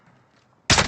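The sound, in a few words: sniper rifle shot in the video game Call of Duty: Warzone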